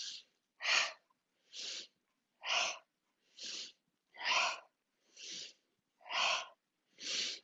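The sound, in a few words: vigorous sniffing breaths during a yoga exercise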